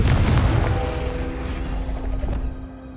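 The Confringo blast spell in Hogwarts Legacy lands as a loud, deep boom at the start, then fades into a rumbling tail with a faint lingering tone.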